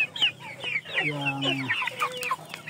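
Indio Gigante hens clucking close by in a series of short, irregular throaty clucks and squawks, joined by a brief drawn-out call, with a voice speaking faintly among them.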